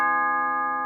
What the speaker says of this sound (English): Oh yeah, there's the bell.